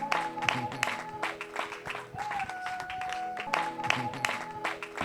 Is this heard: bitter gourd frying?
no